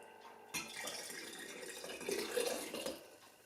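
Hot chicken and vegetable broth pours into hot glass canning jars, a soft liquid splash and trickle rising in pitch as the jars fill, close and moderately quiet with no talking.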